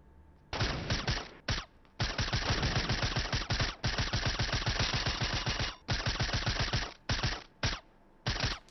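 Fortnite SMG gunfire rattles off in long, rapid automatic bursts, loud and close, with short pauses between the sprays and a few brief bursts near the end.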